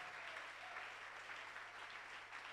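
A church congregation claps in praise during a bilingual healing service, steady, even clapping that sounds distant and faint throughout, with no voices over it.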